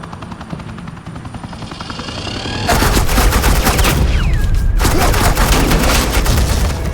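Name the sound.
suppressing gunfire in the video game Batman: The Enemy Within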